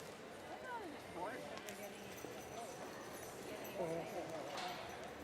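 Heavyweight horses wait before a pull at a Canadian horse pull final, their hooves clopping and stamping in irregular bursts amid crowd murmur and distant talk.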